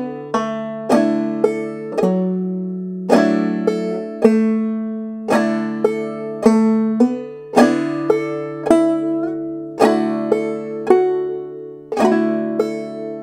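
Fly Around My Pretty Little Miss on clawhammer banjo, a steady, lilting stream of bright plucked notes and brushed strums that ring over a droning string, played close and unaccompanied with no talking.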